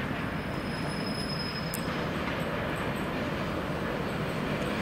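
České dráhy passenger train S8 at Praha-Vršovice station gives a steady, loud rail roar, with a high wheel squeal near the start.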